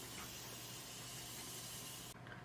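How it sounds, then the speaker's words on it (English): Morphe setting spray misted onto a face, a steady close hiss that runs without a break for about two seconds and then stops abruptly, with no voices. "I'm going to take my Morphe setting spray and we're going to lock it in and also melt some of those powders"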